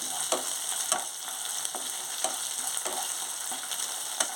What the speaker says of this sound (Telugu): అల్లం వెల్లుల్లి పేస్ట్ వేసుకుంటున్నాను ఇది కూడా కొంచెం బాగా వేయించుకోవాలి